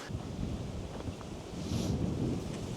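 Strong wind blowing past a windmill in Crete, a continuous gusty roar buffeting the microphone and rising slightly midway.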